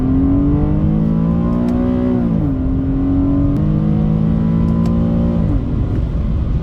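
A manual Infiniti G37 pulls in second gear around 50 km/h, its engine droning loud and close with a rising tone that drops twice as the throttle eases, over steady road noise.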